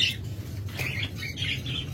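A pair of budgerigars calls in quick chirps and squawks, with a steady low hum running underneath throughout.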